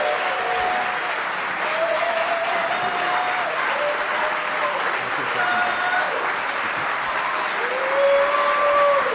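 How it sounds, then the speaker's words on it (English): A crowd at a barbershop quartet district finals applauds steadily throughout for a Hall of Fame inductee, dense clapping filling the room, with a few faint whistles or cheers rising over it. "Please give a huge round of applause to this year's inductee, Mr. Ted Lineback."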